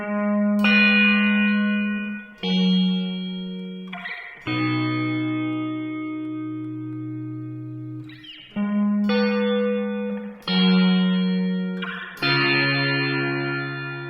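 A Hologram Chroma Console pedal adds a lo-fi digital effect with reverb to sustained chordal notes, each chord ringing in short phrases with a watery, shimmering tone and smooth swells between changes.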